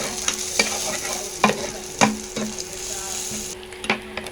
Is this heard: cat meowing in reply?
no